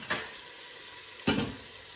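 Crushed garlic hits a hot pot for an oxtail stew, giving two short sizzles about a second apart that fade quickly in a quiet kitchen.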